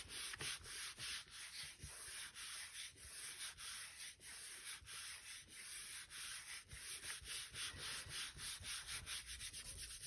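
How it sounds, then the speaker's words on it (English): Glued paper in a journal being burnished by hand, a close, rhythmic series of dry rubbing strokes repeating steadily, growing quicker toward the end, with no speech. "Let's give this a bit of a burnish."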